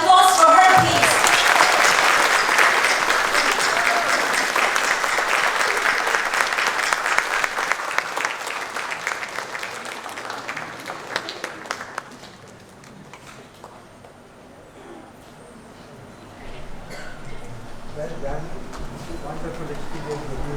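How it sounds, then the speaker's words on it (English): Sustained audience applause at a foundation and thanksgiving day ceremony honouring an award winner, loud and steady for about twelve seconds, then thinning out to scattered claps and quieter room sounds, with a brief rise in noise near the end. "A round of applause for her, please."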